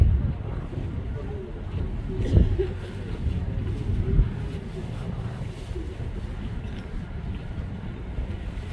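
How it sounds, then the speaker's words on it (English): Strong wind sweeps across an outdoor football field at a regional marching band contest, buffeting the microphone with a steady low rumble that swells twice, with faint murmuring voices in the background. "The wind's blowing pretty good down in the field."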